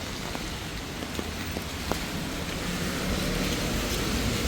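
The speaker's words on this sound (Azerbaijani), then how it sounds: "Şəhərdə yenə güclü yağış yağır." Heavy rain pours down in Batumi, a dense, even hiss with scattered drip taps and a faint low rumble of passing traffic.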